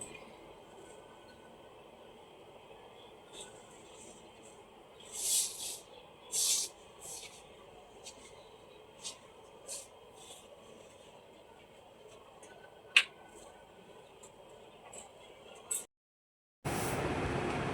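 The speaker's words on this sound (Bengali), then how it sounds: "এর মধ্যে আমি আলুগুলো দিয়ে আলুগুলোকে একটু ভেজে নেব।" Potatoes frying in a pan while cooking a bitter gourd and potato dish, a low, continuous hiss with a few soft sizzling bursts and clicks, quiet throughout before a sudden louder hiss near the end.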